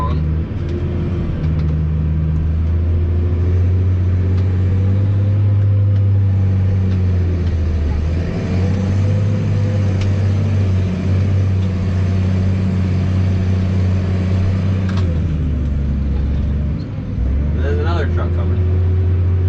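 Truck approaching a forage harvester during corn chopping, with a heavy low diesel rumble under a steady machine drone, engine pitch shifting as it nears, loud and continuous with a person talking over it.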